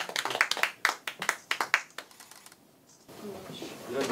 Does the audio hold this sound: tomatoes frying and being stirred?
no